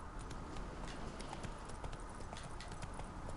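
Roach, Geralt's horse in The Witcher 3, gallops with a steady, rapid clip-clop of hooves over a dense bed of in-game ambience, close and continuous throughout.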